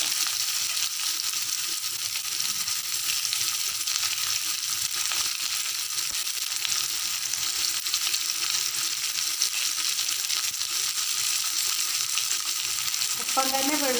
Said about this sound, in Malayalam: ഇനി അതിലേക്ക് നമുക്ക് ഈ ഉള്ളി ഇട്ട് കൊടുക്കാം